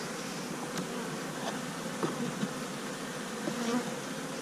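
Honeybees from an opened winter beehive on a warm January day, a dense, steady buzzing hum close by, with individual bees briefly droning louder as they pass, no voices.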